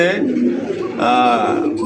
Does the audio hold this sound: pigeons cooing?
yes